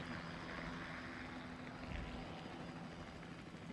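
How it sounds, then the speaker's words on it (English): A steady low rotor drone with a throbbing hum continues throughout, like a helicopter hovering at some distance over a high school football game, with no voices. "We don't get the helicopter sound very often."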